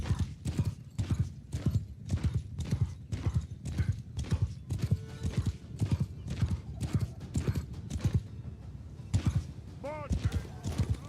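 Steady clip-clop of horse hooves from a column of riders in a video game, with shouted commands and voices over it and a horse whinnying near the end.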